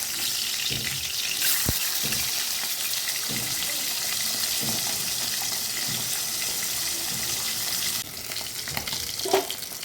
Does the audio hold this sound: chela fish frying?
yes